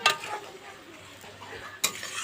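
Rice being stirred in a cooking pot, soft faint scraping and rustling between two brief louder clatters at the start and end, quiet and close.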